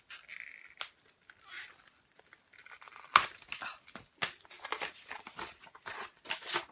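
A zipped travel pouch is taken out of a box and opened, with quiet, irregular crinkling and rustling of packaging and a few sharper tearing scratches that grow busier halfway through.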